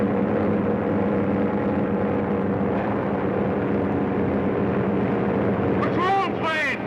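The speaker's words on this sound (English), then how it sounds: "Patrol plane!" A patrol plane drones overhead with a steady engine rumble and wind noise throughout, loud and close, with a couple of sharp warbling sweeps near the end.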